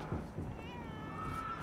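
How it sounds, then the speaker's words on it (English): A cat in the video game Vampyr lets out a drawn-out, wavering meow, close and clear, over faint game ambience. "That's a cat."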